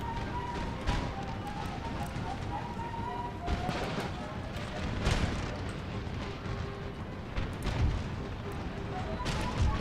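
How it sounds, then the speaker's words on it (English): Cannon firing shrapnel shot at troops behind a wall in Empire: Total War, heavy booms repeating every second or two amid a constant battlefield rumble, with someone talking over it. "I'm gonna have my cannon with the shrapnel shot hit these troops behind the wall."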